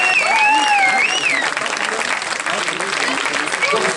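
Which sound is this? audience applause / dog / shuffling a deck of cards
audience applause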